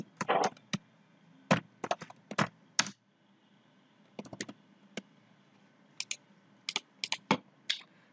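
Computer keyboard typing in bursts: clusters of crisp, close key clicks with short pauses between, fairly quiet, no voices.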